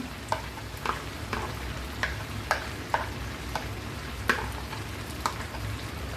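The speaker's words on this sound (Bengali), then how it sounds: "সবগুলো দিয়ে খুব ভালো করে এবার নেড়ে চেড়ে নেব।" A spoon scrapes and stirs chicken curry with fried onion and cashew paste in a pan, giving irregular light clicks over a steady low sizzle, close and fairly quiet.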